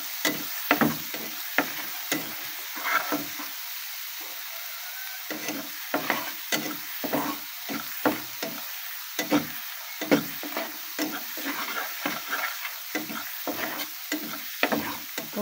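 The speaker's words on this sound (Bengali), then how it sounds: "মশলাটাকে ভালোভাবে কষিয়ে নেব।" Spice paste for small fish with lemon leaves is stir-fried in a pan, with repeated scraping spatula strokes in an irregular rhythm over a soft steady sizzle, close and clear with no talk.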